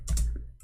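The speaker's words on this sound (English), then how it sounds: "Oh, I'm typing in Arabic." Quick keystrokes on a computer keyboard, a short close burst of clicky typing with no voices.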